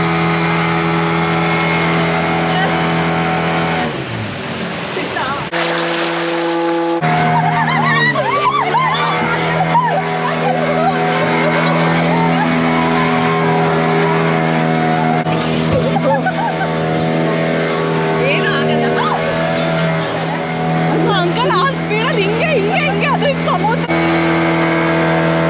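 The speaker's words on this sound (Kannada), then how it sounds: "ಸೊ ಫೈನಲಿ ಬೋಟಲ್ಲಿ ಹೋಗ್ತಿರೋದೇ ಖುಷಿ." Boat engine running steadily throughout a ride in Pondicherry, a continuous loud drone with people talking over it and a brief louder burst partway through.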